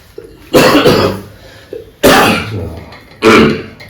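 Three loud, harsh coughs close to the listener, spaced about a second apart, each preceded by a short breath.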